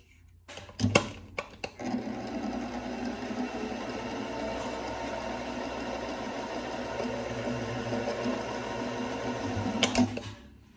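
A milling machine taps a through hole in titanium, giving a steady, loud mechanical whir with rattling that runs almost unbroken for about eight seconds, framed by sharp clicks and clunks at the start and end.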